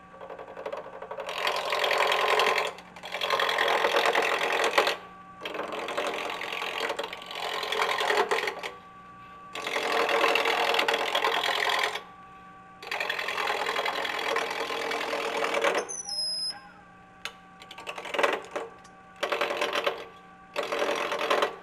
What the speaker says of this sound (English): Right now I'm using a spindle roughing gouge, returning between centers.